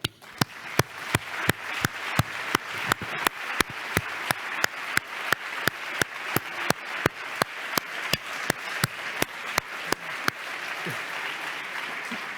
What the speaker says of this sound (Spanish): brindemos 2 aplausos muy fuertes